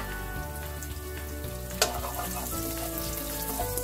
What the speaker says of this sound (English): Once the oil is hot, I add my garlic.